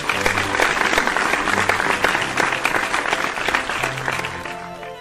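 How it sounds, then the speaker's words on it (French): A crowd gives brisk, sustained applause with faint tonal sounds underneath, the clapping staying full before tapering slightly at the end. "applaudissons pour lui."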